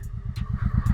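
A 1986 Honda Shadow 700 motorcycle engine idling, a steady low throbbing pulse at close range with light clattery ticks over it.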